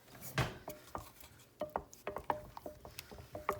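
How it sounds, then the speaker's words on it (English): A spoon scraping and clinking against a pot while butter is stirred into butterscotch pie filling on the stove, giving a run of light, irregular metallic taps and scrapes close by, with no talking. "You just want to make sure all that butter is stirring good."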